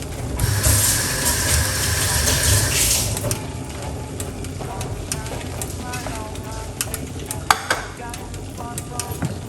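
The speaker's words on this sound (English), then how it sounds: "We just give it a little stir and that calm it down" Food being stirred in a pot, giving a steady scraping and bubbling wash at first, then lighter clinks and scrapes, close and fairly loud, with no talk over it.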